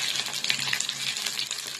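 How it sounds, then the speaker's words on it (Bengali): Chicken pieces for chilli chicken fry in white oil, giving a busy, crackling sizzle with small pops and bubbling throughout, close and fairly loud. "ভেজে নিই, তারপরে যখন আমি রান্নাটা করব তখন কিন্তু সাদা তেল ব্যবহার করব।"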